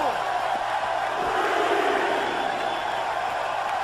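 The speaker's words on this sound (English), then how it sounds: "Crowd started chanting for Sting." A wrestling arena crowd chants for Sting in WWE 2K18, a loud, steady roar of massed voices filling the whole clip with no clear individual speech.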